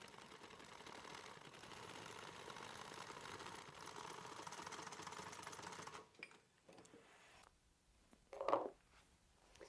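A sewing machine stitches messenger bag fabric, giving a steady, quiet mechanical whir for about six seconds. It then stops, followed by faint handling noises and a short rustle.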